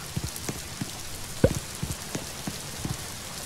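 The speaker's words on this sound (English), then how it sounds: "Looks like it's raining outside." Steady light rain in the video game Bloxburg patters on a surface, scattered drops ticking softly and irregularly, with no voices.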